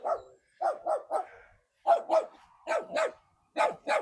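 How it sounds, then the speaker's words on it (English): A neighbour's dog named in context barks in short bursts, mostly paired yaps spaced through the stretch, fairly close and moderately loud with brief quiet gaps between, no talk over it. "the neighbor's dog is fearlessly coming after me"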